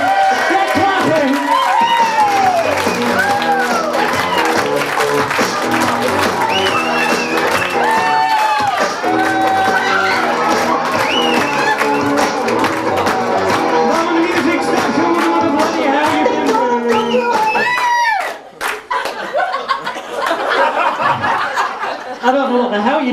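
An audience at a live comedy hypnosis show claps, cheers and laughs in a sustained, loud wave, with chuckles and shouts mixed in and voices talking over the noise before it thins out near the end.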